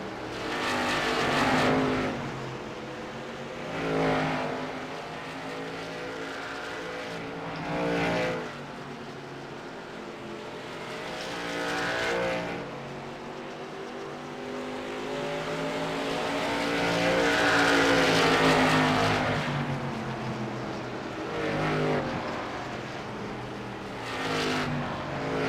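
Race cars at Lucas Oil Raceway roar through the turns in a continuous engine drone that swells and fades as packs pass, with periodic louder surges over the field.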